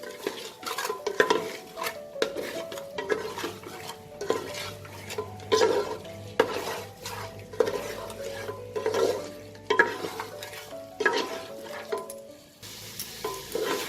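Mutton masala being sautéed in a pot for Awadhi-style yakhni pulao, a spoon repeatedly scraping and stirring against metal in rhythmic strokes over a low, continuous sizzle of frying oil.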